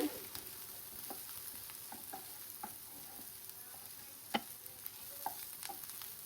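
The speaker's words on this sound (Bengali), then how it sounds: "এটা আমরা নেড়ে নেড়ে নিচ্ছি" Food for aloo tacos being stirred in a pan: a quiet steady sizzle with soft scraping and tapping strokes at irregular intervals, close by and with no voices.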